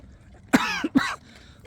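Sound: cough

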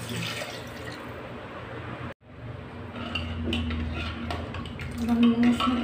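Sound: water being poured into pot for mor dhan khichdi

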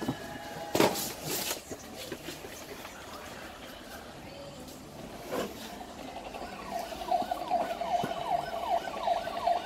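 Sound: police car siren

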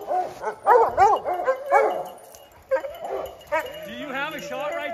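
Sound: hunting dogs barking at a treed mountain lion

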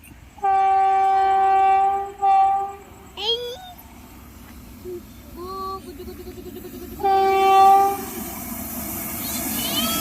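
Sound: goods train passing

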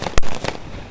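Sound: old rifle fired in a feu de joie

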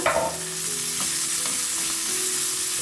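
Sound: mixing coriander leaves into semolina batter

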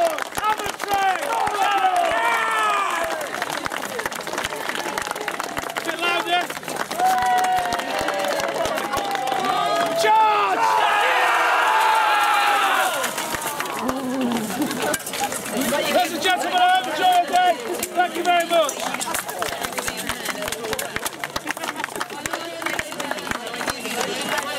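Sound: audience applause at a museum re-enactment

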